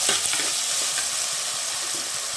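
Onions and tomatoes sizzle and fry in a pan for a dry fish curry, a steady close hiss broken by brief scraping stir strokes, with no talking.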